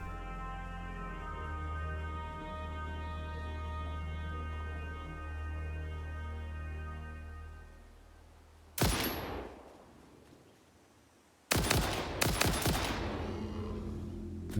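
Gunfire in the game Satisfactory: after a long steady machine hum, one sharp burst of shots rings out, then a second cluster of loud shots follows a few seconds later, close and punchy, with no talk.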